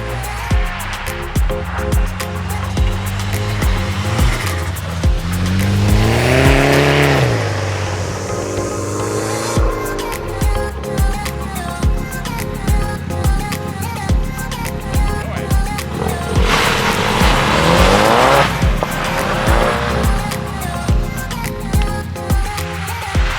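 A car engine revs and accelerates repeatedly on an ice racing autocross course, rising and falling in pitch, with a voice talking over the steady outdoor noise; a Subaru BRZ/Toyota 86 with shorter gears and limited-slip differential.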